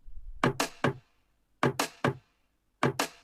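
Three groups of sharp, dry snare drum hits, three quick strikes in each group, spaced by short pauses, close and unprocessed-sounding, before exciter processing.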